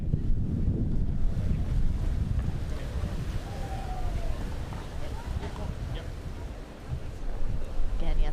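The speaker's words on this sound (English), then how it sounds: "20 to 40 mile an hour winds, depending if it's gusting or not" Strong gusting wind of 20 to 40 mph at an outdoor pro pickleball doubles tournament roars as a steady, loud low rumble of microphone buffeting throughout, with faint voices underneath.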